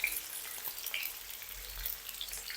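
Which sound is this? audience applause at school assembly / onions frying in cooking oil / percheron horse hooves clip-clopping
onions frying in cooking oil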